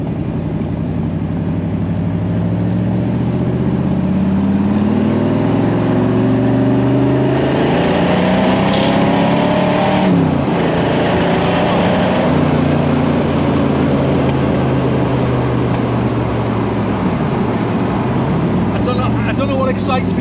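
A powerful, bare-bones car with no ABS or power steering, its engine revving and pulling hard through rising gear sweeps, loud and close throughout, with people talking over it.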